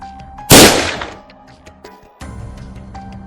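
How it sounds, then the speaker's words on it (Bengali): Gunfire sound effect from outside in a Bengali detective audio drama, a sudden loud crack that trails off over about a second, followed by quieter background noise. "ঠিক তখনই বাইরে গুলির শব্দ।"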